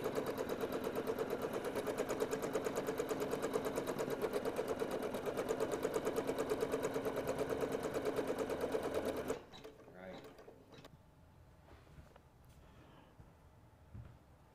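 An embroidery machine stitching out an appliqué Christmas ornament, a fast, even mechanical rattle running steadily for several seconds before stopping abruptly, followed by quiet handling noises.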